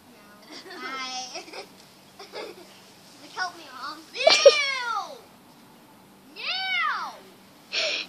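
A voice imitates a cat, giving several drawn-out, rising-and-falling meows at close range, with bits of playful child speech and babbling in between.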